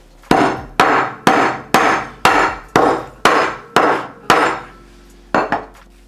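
White peppercorns crushed for a béchamel: eight sharp, evenly spaced pounding strikes close up, each with a short ringing tail, then a pause and one final double knock, with no talk.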